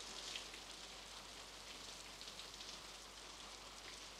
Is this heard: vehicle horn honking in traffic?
no